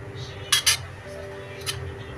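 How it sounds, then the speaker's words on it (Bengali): Rice being stirred in a cooking pot for chicken kabsa, with two quick clinks of a metal utensil against the pot close together and a third lighter clink a second later, over a low steady background hum. "এটা সুন্দরভাবে একটু নেড়ে চেড়ে দিতে হবে যাতে করে একটা চালের সাথে আর একটা না লাগে।"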